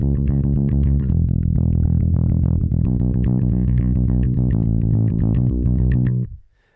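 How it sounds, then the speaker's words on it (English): Distorted electric bass with effects plays a steady shuffle pattern as full, unbroken triplets, a continuous driving pulse of notes close and loud for about six seconds before cutting off. "Shuffle rhythm is based on triplets."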